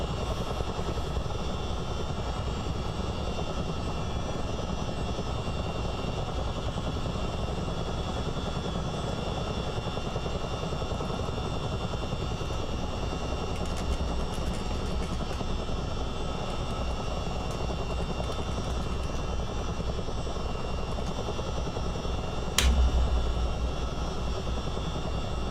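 Simulated Chinook CH-47 twin-rotor helicopter in Microsoft Flight Simulator, a constant droning engine and rotor roar with a broad whine, steady throughout, with a short sharp click near the end and no talking.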